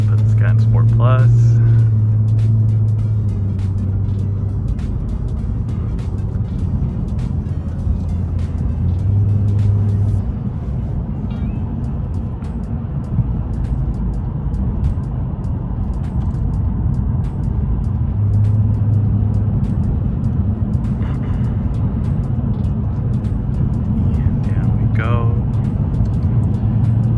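A Lexus GS sedan, a 4,000 lb car, runs in Sport Plus mode along a twisting canyon road, its steady engine drone and road rumble sitting under frequent conversation from people inside.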